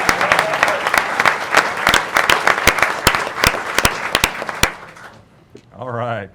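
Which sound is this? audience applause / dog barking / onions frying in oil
audience applause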